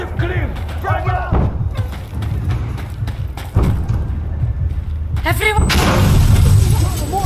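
Frag grenade blast and gunfire in Insurgency Sandstorm urban daylight combat: sustained low rumbling booms and thuds with scattered shots, a loud burst near the middle and a heavy blast toward the end, with shouted voices throughout.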